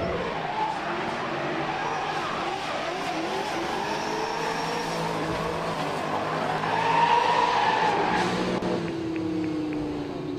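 Drift car sliding sideways with sustained tire squeal and engine roar at a French Drift Championship battle run, loud and continuous, swelling louder near the end as the car is thrown from side to side.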